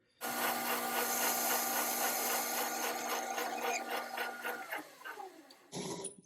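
A metal part is turned to cut a shoulder about 14 millimetres in diameter on a lathe. A steady tonal machining whine with rhythmic scraping pulses continues for several seconds, then tapers off and stops near the end.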